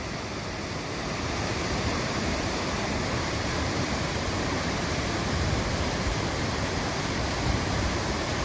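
Steady, broad rush of spring water flowing freely in a wild, wooded area of Dexom, a continuous close wash with no breaks and no voices.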